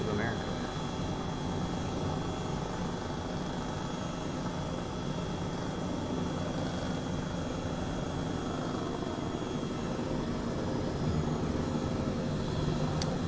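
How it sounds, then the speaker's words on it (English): Airbus helicopter in Microsoft Flight Simulator on a morning flight over Northern California, a steady loud rotor and engine drone holding unbroken throughout, with voices talking faintly beneath it. "bring the helicopter sounds down"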